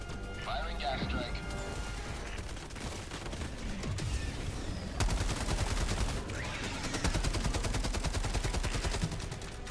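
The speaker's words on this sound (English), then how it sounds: "Calling in orbital strike. Firing gas strike." Orbital and gas strikes land in the Helldivers video game amid dense, rapid gunfire and crashing blasts, a loud, continuous barrage that swells midway, with voices mixed into the battle noise.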